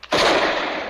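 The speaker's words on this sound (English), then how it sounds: "Sight the target. Now fire." A single gunshot from a handheld weapon in a Western drama, one sharp loud crack after a brief quiet moment, its blast ringing out and slowly decaying.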